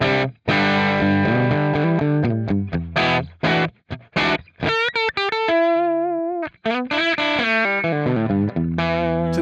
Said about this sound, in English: here is just the amp and the cab without any of these little sweeteners